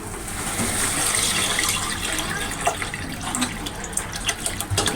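Leftover water from boiled lentils is poured into a pan for amti, a continuous splashing pour close by, steady and moderately loud with a few brief clinks near the end.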